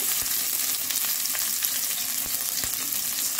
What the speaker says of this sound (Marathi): आपली जिरी मोहरी छान तडतडली की याच्यात मी टाकून घेते 1 इंच अद्रकचे तुकडे